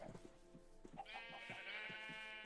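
Minecraft sheep bleating repeatedly, several wavering baa calls overlapping at close range in the video game, with no talking.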